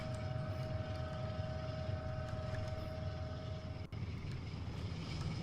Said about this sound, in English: Can hear the retarder as well, just trying to slow me down while I'm going downhill.